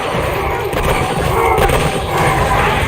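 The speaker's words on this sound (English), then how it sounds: "That other attacks with explosion." Explosion attacks in the action game Scarlet Nexus on PS5, a dense, loud wash of rumbling blasts and crackling booms that fills the whole span without a break.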